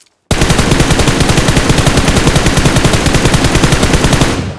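Sustained automatic gunfire spraying in a mobile shooter game, one loud unbroken burst of rapid, evenly spaced shots lasting about four seconds, close and alone with no talk.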